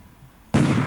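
A single heavy artillery boom fires from a unit in War in the Pacific: Admiral's Edition during a 1941 Philippines campaign, cutting in abruptly after near silence and sustaining a loud, broad roar.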